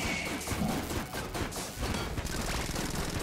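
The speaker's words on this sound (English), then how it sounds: "Guess we'll use Gemini rifle." Gemini rifle fire in Enter the Gungeon, a dense rapid stream of overlapping gunshots and impacts that runs continuously and loud throughout.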